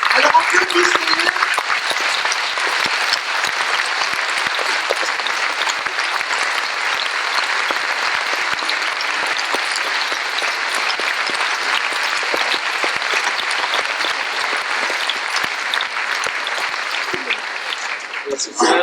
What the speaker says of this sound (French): Alors, applaudissez-le.